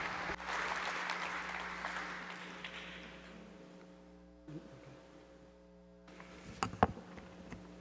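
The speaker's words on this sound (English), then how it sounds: "Please welcome the mayor with a big round of applause." An audience claps to welcome a city mayor onstage at a forum, the applause starting fairly loud and gradually fading over several seconds, followed by quiet room hum and a few scattered sounds.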